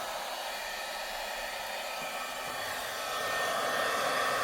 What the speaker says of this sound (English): I've got my heat tool off to the side. I'm letting it warm up.